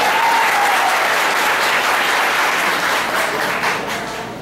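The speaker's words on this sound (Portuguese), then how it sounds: "Um aplauso." Loud, sustained applause fills the room at a public hearing, a dense wash of many hands clapping that tapers slightly toward the end.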